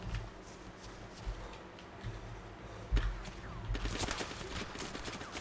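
Arma 2 video game gunfire pops in scattered, fairly distant bursts over a steady battlefield ambience, with a brief thump partway through and a denser run of shots toward the end.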